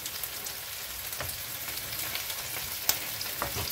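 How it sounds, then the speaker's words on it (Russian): Meat fries in a pan on a stove, giving a steady close sizzle and crackle with a few sharper pops, with no voices. "А тут мясо жарится как раз по соседству"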